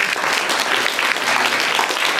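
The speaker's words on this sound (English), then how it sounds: "big round of applause to all of them." Steady audience applause at a community unity day event, a dense, even wash of many hands clapping without pause for a couple of seconds.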